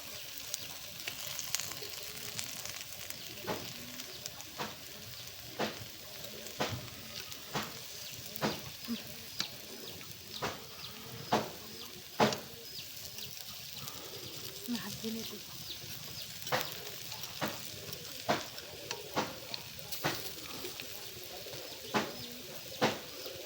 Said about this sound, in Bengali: বড়িগুলো এই পাশে ওপাশ করে নিব, দুই পাশে ভেজে নিব